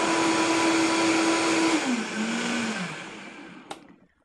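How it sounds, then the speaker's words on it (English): A high-speed blender whirs loudly, blending almonds for nut milk, holding a steady whine before the pitch drops and the motor winds down to a stop. "So go ahead and begin blending."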